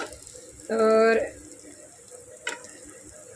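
Stuffed bitter gourds hit hot oil in a pressure cooker with a loud, half-second burst of sizzling, which quickly dies back to a low background hiss. A short click follows, and a voice is heard briefly.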